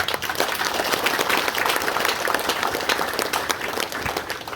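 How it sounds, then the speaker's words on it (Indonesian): A church congregation at a Christmas ecumenical service in Nabire, Papua, bursts into sustained applause, a dense wash of clapping that holds steady for several seconds and tapers slightly at the end. "Mari kita tepuk tangan untuk Allah."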